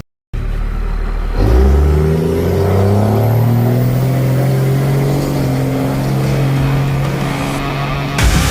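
A heavy truck engine roars up close, revving and rising in pitch as it accelerates. The loud whine then holds steady, with a drone that lingers to the end.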